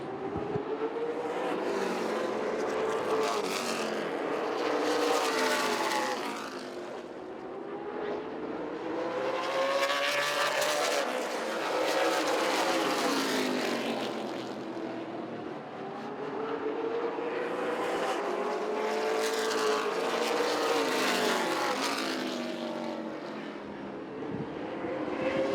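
Super late model race cars roar around a short oval track in a Thanksgiving Classic race at Southern National, engine sound swelling and fading in repeated passes as the pack laps, loud and continuous with no talk.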